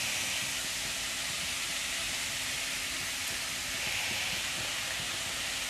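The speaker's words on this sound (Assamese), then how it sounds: "এতিয়া গেছৰ ফ্লেমটো ল' কৰি এইখিনি ভালকৈ ভাজি থাকিম।" A steady, loud hissing sizzle of bottle gourd skin frying in a pan over a low gas flame, continuous and unchanging throughout, with no voices.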